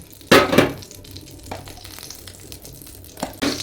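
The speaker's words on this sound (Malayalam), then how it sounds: "നമ്മൾ നെയ്യിൽ തേങ്ങ വറുക്കുക" Chopped coconut frying in ghee while making neyyappam, with sharp bursts of sizzling and stirring clatter near the start, then quieter crackle and a few more scraping bursts toward the end.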